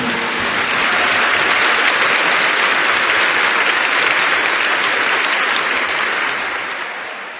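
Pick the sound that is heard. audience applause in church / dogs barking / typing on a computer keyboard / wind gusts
audience applause in church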